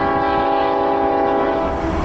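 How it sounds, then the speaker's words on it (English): A freight train rolls past a rail crossing in Cajon Pass with its horn blaring, a loud, sustained harmonic blast held over the steady rumble of wheels and cars throughout. "I'll have to wait for that train to go by before I can cross."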